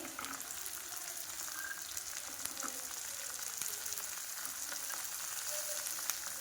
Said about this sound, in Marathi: त्यानंतर आपले हे धुवून ठेवलेले वाटाणे घालायचे आहे